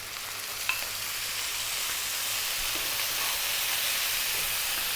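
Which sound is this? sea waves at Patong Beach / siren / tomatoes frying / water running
tomatoes frying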